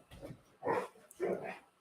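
A dog gives two loud, close barks in quick succession after a softer lead-in sound, with no talking.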